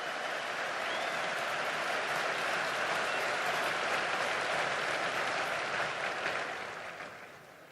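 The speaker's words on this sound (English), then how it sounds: "how about a round of applause for the class of 1974" Large graduation-ceremony audience at West Point applauding the class of 1974, a dense, steady roar of clapping that holds throughout and fades toward the end.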